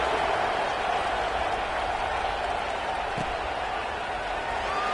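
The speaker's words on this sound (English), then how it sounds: "this crowd is buzzing after that last score" A football stadium crowd at an SMU versus UCLA game keeps up a steady, dense roar of murmuring voices and cheering that carries evenly throughout, with no single voice standing out.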